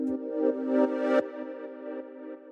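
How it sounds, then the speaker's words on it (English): A soft, sustained synthesizer pad holds a chord in a track, swelling a little with a few brief attacks before easing into a steady tone, alone and fairly quiet. "The next sound that we have here is this third pad, which sounds like this."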